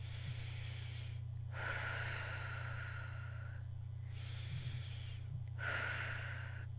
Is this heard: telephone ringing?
no